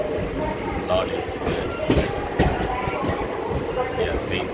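A train rumbles and clatters along the platform at Gudiwada railway station in India, steady and fairly loud, with a brief squeal of wheels and people talking amid the station bustle.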